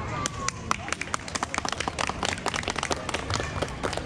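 Wedding guests at a central ceremony clap in a sustained burst of dense, crisp applause, many hands patting close by with steady rhythmic peaks throughout.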